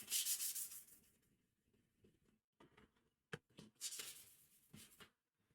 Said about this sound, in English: grab a sandpaper, a sand block, and just lightly sanded to brush down those fibers and make it smooth again